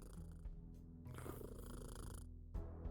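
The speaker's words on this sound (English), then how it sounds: "I love the cat Foley work." A cat in the video game Kathy Rain 2 purring softly and steadily for a few seconds, a low rumbling buzz with faint breathy pulses, heard close and quiet.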